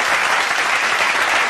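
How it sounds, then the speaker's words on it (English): A live studio audience on an interview show claps for a singer, a dense, loud, even wash of many hands lasting the whole short stretch with no pause. "Thank you for the clap"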